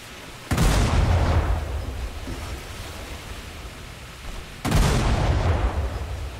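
Two heavy booming blasts from a Royal Navy Tribal-class destroyer's naval guns in War Thunder, each sharp onset followed by a long rumbling roar over steady sea-like wash, fired about four seconds apart.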